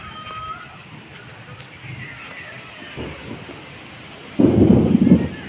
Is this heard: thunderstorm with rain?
yes